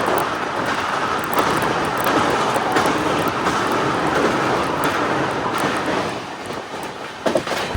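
A nonstop passenger train running on rails between Bandra and Jaipur gives a steady, loud rumble with faint rattles and clacks throughout, heard from inside the carriage.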